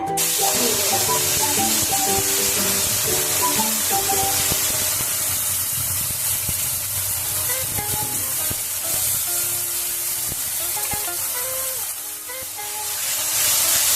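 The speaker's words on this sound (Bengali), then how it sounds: "দিয়েছি ওই তেলের মধ্যেই আমি এই বাটাটা" Beet paste frying in hot oil with black cumin, giving a steady loud sizzle and hiss that holds throughout, with soft stirring scrapes and background music.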